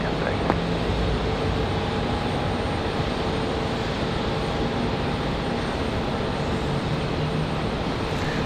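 A JetBlue airliner at Raleigh Durham airport gives off a steady, broad engine roar that holds at a constant level throughout, with faint wind noise in the background.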